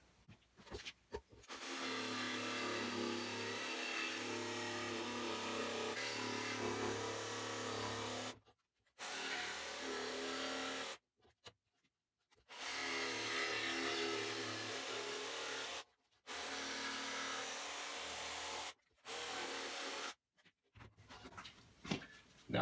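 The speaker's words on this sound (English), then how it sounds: "And then I'm going to use a jigsaw to just cut out a shape for the hand." A jigsaw cutting a hand-shaped opening in a prop tree stump: several sustained, buzzing cutting runs, close and steady, broken by short silent pauses as the saw stops and restarts.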